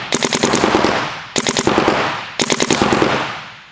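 A paintball marker fires three quick strings of shots outdoors, each burst a loud, rapid crackle of pops with short gaps between strings and no voices.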